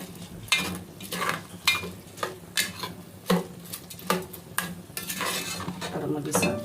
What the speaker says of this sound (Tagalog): Tapos igisa natin.